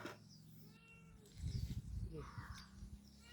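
A cat meows a few times at moderate distance in a home, the calls mixed with low rumbling background and overlapping Thai conversation.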